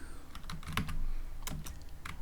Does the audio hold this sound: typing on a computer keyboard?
yes